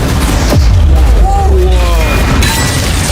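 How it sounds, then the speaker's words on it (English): Video game cannons pound a yacht with loud booming shots and crashing impacts, debris and shattering noise mixed in, while a voice talks over the barrage. "The cannons were already damaging Sean's yacht, and we're just getting started."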